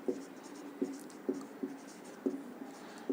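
Writing on a board during a physics lecture makes regular, faint tapping and scratching strokes, roughly two per second, close and with no talk.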